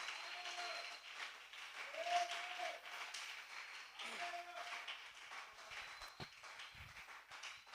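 A church congregation applauds to acclaim the Lord during a sermon, with steady, dense clapping that fills the whole stretch at moderate loudness and swells briefly in the middle.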